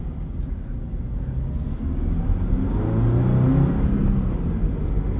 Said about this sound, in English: You kind of get a little bit of a rough start with this stock throttle tuning.